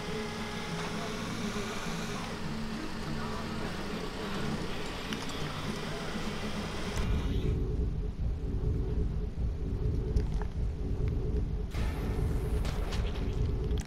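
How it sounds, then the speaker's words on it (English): Steady truck engine drone from a driving video game, a continuous low rumble that shifts in tone partway through, deepening and thickening while holding at a constant moderate level with no talking. "This truck sounds like a real truck."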